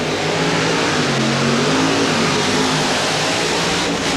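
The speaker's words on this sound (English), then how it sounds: "let's see if he's figured out how to get over that hole with the equalizer truck" The Equalizer monster truck at a monster truck show in Flemington, New Jersey, its engine roaring and revving loudly and continuously without a break, with no voices heard over it.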